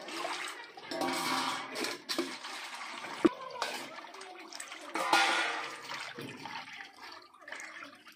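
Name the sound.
washing fish in water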